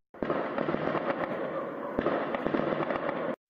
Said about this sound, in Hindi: घंटों तक ताबड़तोड़ गोलीबारी चलती रही जिसकी आवाज से पूरा इलाका दहल उठा